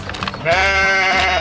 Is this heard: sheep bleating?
yes